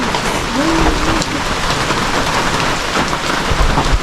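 Steady rain pours down around a countryside hut where farm animals are kept, a dense continuous hiss of drops striking surfaces close by, unbroken for the whole stretch with a faint whistling tone drifting through early on.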